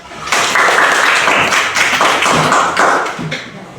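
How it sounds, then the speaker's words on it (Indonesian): A classroom of students in a Christian religious education lesson claps together, bursts of brisk hand clapping in a few rhythmic waves, close and loud, with no talk over it. "Tepuk tangan."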